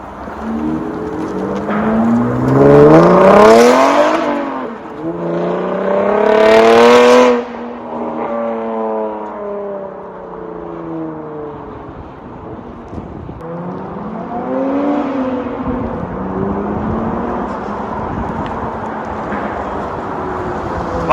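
A V6 Chevrolet Camaro with an aftermarket exhaust revs hard twice with a throaty exhaust roar, then settles into a lower rumble before revving up again more gently.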